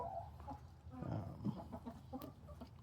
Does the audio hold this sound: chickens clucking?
yes